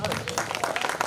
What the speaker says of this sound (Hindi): जोरदार तालियां हो इनके लिए। और मैं चाहूंगा कि आप सब खड़े होकर इनके लिए तालियां बजाएं